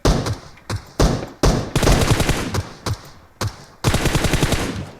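Loud, close bursts of automatic rifle fire from the mobile battle royale game PUBG Mobile repeat in quick strings with short gaps between them.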